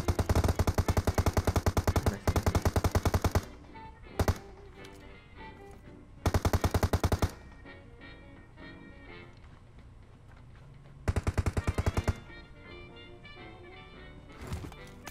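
Bursts of automatic gunfire in PUBG Mobile ring out in rapid strings, loud and close, with a brief single shot between them and quieter game ambience in the gaps.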